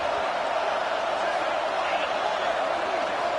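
Steady roar of a football stadium crowd cheering to urge the defense toward a red zone stop, a dense, continuous wash of massed voices with no distinct breaks.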